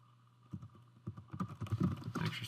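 Quiet typing on a computer keyboard: a run of soft, irregular key clicks that speeds up and grows denser toward the end, close, with no talk.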